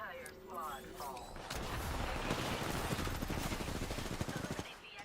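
Rapid automatic gunfire in a shooter video game, dense continuous bursts of shots close and loud, building after the first second and running almost to the end, with game voice lines mixed in.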